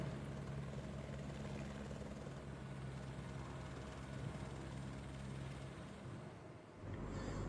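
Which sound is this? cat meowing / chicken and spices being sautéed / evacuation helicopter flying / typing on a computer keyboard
evacuation helicopter flying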